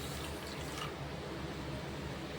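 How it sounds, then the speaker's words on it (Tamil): Water is poured over sugar in a pan to make syrup, a soft steady trickle of liquid that is quiet and continuous, with no talking. "இப்போ நம்ம இந்த சர்க்கரை மூழ்கிற அளவுக்கு தண்ணி ஊற்றிக்கலாம்."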